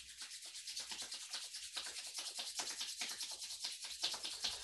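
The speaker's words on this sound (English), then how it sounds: "You can rub the palms together." Palms rubbing briskly together during a yoga session, a steady rapid rustling friction with quick back-and-forth strokes, close and fairly soft, with no talking.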